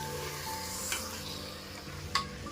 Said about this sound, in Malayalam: വഴറ്റി വെച്ച സാധനങ്ങളും മസാലയും ചേർത്ത് മിക്സ് ചെയ്ത് കൊടുക്കും.